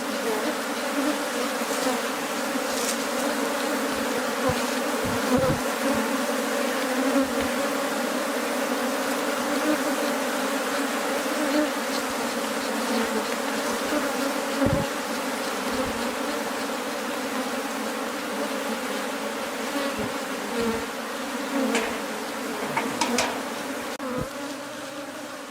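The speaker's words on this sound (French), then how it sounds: "les abeilles sont tellement dociles" A swarm of bees buzzes steadily around their hives in Lukimba, Kongo Central, a dense continuous drone heard close and alone, with a few brief knocks breaking through.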